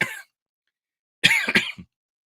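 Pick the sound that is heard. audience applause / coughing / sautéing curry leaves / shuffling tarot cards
coughing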